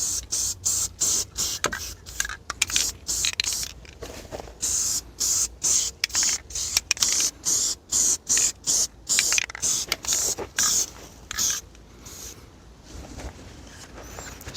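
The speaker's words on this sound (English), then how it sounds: "Seems to want to spray upside down." Short, hissing bursts of an aerosol spray can on a 1956 Ford F500 truck repeat in quick, irregular pulses, some longer and some clipped, close and fairly loud outdoors.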